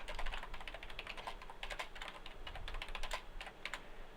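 Rapid typing on a computer keyboard, a steady run of light, irregular key clicks heard close and alone with no talking, as a name is entered into a form field.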